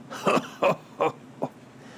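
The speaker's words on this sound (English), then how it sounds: "That's just him clearing his throat." A man clears his throat in four short, rough bursts, the last one softer.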